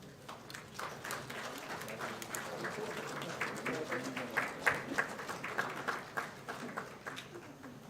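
Audience applause at an AI leaders summit, sustained clapping from a seated crowd that swells slightly toward the middle, moderately distant, with faint voices mixed underneath.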